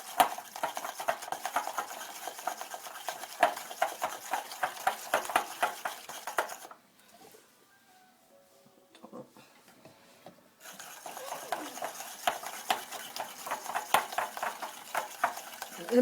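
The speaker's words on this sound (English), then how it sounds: "Stir away." A mixture is stirred with oil in short, rhythmic, close scraping and squelching strokes. It goes quiet for a few seconds midway, then the stirring resumes. There is no talking.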